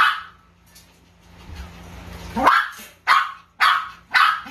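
Pomeranian dogs at a pet market bark in a quick run of sharp, high yaps, with several loud close barks at a steady pace after a few quieter whimpering sounds.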